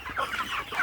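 Chickens cluck close by on a backyard farm, with several quick overlapping clucks and murmurs in a short burst.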